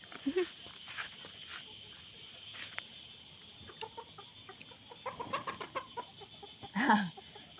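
A few chicken clucks come and go amid quiet background noise and soft talking, with a louder burst of clucking near the end.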